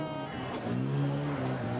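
A Mini Cooper rally car drives a snowy Monte Carlo stage, its engine droning with a steady harmonic note that rises slightly, heard at moderate distance and fairly faint.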